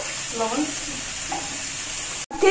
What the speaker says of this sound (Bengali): গরম তেলের মধ্যে আমি তেজপাতাগুলো ছেড়ে দিলাম, গোটা জিরাও ছেড়ে দিলাম